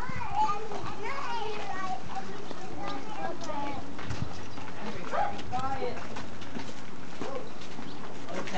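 Horse hooves clopping in a barn during a horseback riding field trip, faint and intermittent under constant chatter from children, with occasional bird calls.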